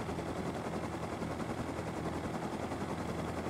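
A helicopter flies in the survival video game Rust, a loud, dense rotor roar with a rapid chopping pulse that holds steady and close throughout.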